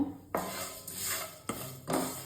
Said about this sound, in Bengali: এবার এই সিমইগুলোকে দিয়ে দেব। এবার সিমইটাকে ভেজে নেব।